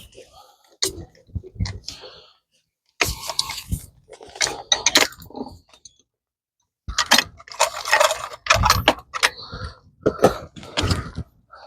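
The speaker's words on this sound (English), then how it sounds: "We're gonna take our cutoff disc and change it with a flap disc" Swapping a cutoff disc for a flap disc on an angle grinder: scattered clicks, rattles and handling clatter of the tool and disc, in bursts separated by quiet gaps, close by.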